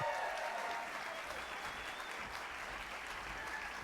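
A crowd applauds steadily, a dense wash of clapping from a sizable audience, heard at a moderate distance.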